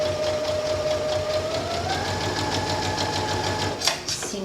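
A domestic sewing machine stitches a fabric panel skirt in a steady, fast mechanical whir with rapid regular needle ticks, shifting pitch slightly midway and ending in a couple of quick clunks.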